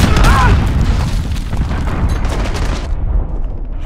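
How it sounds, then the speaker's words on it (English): A heavy cruise missile strike booms in Call of Duty Modern Warfare, a loud, rumbling low blast that fills the first seconds and then rolls off into a fading roar. "Allied cruise missile away."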